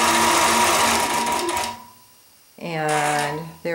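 A computerized quilting machine stitches an edge-to-edge design with a loud, steady mechanical hum that cuts off midway, followed by a voice speaking briefly.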